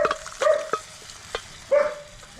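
Cooked beef being stirred into fried masala for a beef curry, with intermittent scraping and clinks from a spoon against the pan over a low sizzle, close and in short bursts.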